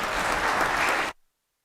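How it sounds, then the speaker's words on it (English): A legislative chamber breaks into a short burst of dense applause from many hands, which stops abruptly after about a second. "Let's give them a round of applause."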